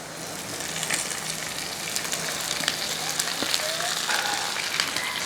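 Ivy gourd pieces tossed into a hot pan with crushed chili sizzle and crackle steadily, a close, continuous frying hiss with faint pops throughout and no voices.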